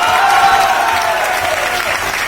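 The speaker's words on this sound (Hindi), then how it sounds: "अब कुछ लगा कि ऐसे ताली बजा रहे हैं?" Steady, loud applause from a crowd of people clapping continuously throughout, dense and even with no pauses.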